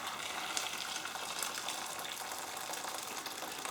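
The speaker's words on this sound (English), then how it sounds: "I've just boiled up my kettle, just going to pour that in there." Freshly boiled water pours from a kettle into a pan for potatoes, making a soft, steady splashing stream that runs without a break, fairly faint and close.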